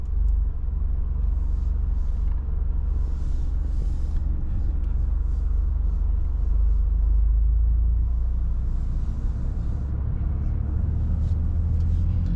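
A 2024 Toyota GR Corolla pulls away in first gear, its engine a steady, loud low rumble heard from inside the cabin for the whole stretch, swelling slightly midway as throttle is added.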